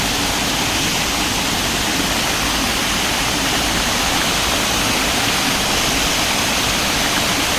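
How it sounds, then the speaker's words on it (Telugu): A waterfall in dense forest, heard close as a loud, unbroken roar of rushing water that holds steady throughout. "చాలా అంటే చాలా బాగుంది ఈ వాటర్ ఫాల్"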